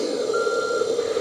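A continuous electronic reversing beep from a small RC truck sound module hums steadily, fairly loud and close, with no voices.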